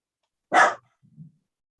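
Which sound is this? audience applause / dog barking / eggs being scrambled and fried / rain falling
dog barking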